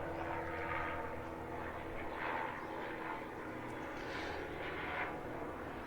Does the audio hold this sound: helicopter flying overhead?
yes